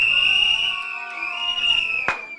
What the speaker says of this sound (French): Si c'est les filles qui gagnent, vous sifflez fort.